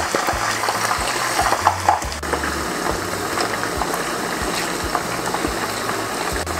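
Chicken pieces wrapped in pandan leaves frying in hot oil, a steady, dense bubbling sizzle that runs throughout at close range beneath background music.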